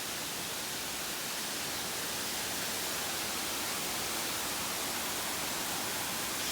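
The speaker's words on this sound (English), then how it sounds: "Waterfall overload." A mountain waterfall roars as a dense, continuous hiss of falling water, steady and loud with no breaks and no voices.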